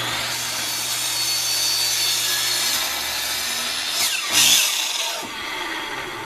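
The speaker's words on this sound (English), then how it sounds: "it's not very easy to cut this 4-inch PVC using a chop box" A chop box saw cuts through 4-inch PVC pipe with a steady harsh grinding hiss that swells and rasps near the end of the cut before easing off, close and loud.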